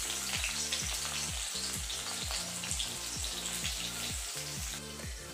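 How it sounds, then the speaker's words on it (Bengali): Sliced onions frying in hot mustard oil, a loud, close, continuous crackling sizzle with rhythmic spatter bursts across the whole stretch and no voices. "এখানে আমি মাস্টার্ড অয়েল গরম করে নিয়েছি, এখন আমি এখানে পেঁয়াজগুলো ফ্রাই করে নেব"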